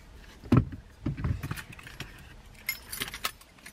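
A bunch of keys jangles in a few short metallic bursts, close by, with soft handling sounds between them and no talk.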